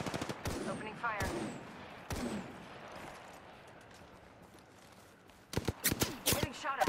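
Weapon fire in a space combat video game comes in sharp bursts, a couple of shots early on, then a quieter stretch before a rapid cluster of blasts near the end, with electronic whooshing between them.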